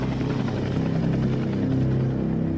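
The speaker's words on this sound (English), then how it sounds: "The helicopter circles for 20 minutes, then disappears as suddenly as it arrived." Helicopter circling overhead, a steady low rotor thrum with droning engine hum that holds constant and fairly loud, with no voices.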